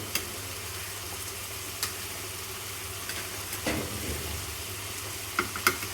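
Potatoes tossed with chili powder and salt fry in a pan for a chicken curry, a steady low sizzle with occasional soft stirring scrapes and clicks, no voices.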